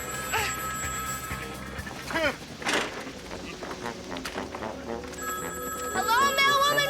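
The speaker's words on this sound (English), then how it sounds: "let me answer that ringing phone" A telephone ringing indoors in a TV comedy scene, a bright trilling bell that sounds at the start and again near the end, mixed with voices and other sounds from the scene.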